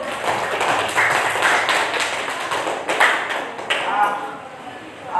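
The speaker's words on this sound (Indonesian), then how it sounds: "tepuk tangan dulu untuk kelompok 1" A group applauds Group 1 with scattered, moderately loud clapping and taps, while a voice speaks over the claps.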